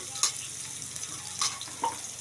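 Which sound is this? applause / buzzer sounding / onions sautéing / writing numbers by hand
onions sautéing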